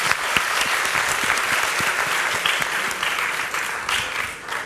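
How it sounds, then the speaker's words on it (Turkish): A studio audience on a Turkish music show gives a warm, sustained round of applause for two singer-songwriters, dense and loud, fading slightly near the end. "Çok büyük alkış."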